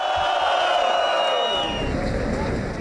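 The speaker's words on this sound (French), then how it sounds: "Et la foule lui a répondu non" A large crowd at a Kyiv rally roars back at the Ukrainian Prime Minister, a loud sustained mass of shouting voices and cheering that swells and fills the space throughout.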